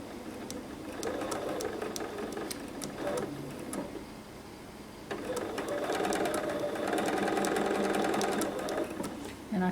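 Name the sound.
sewing machine stitching quilt binding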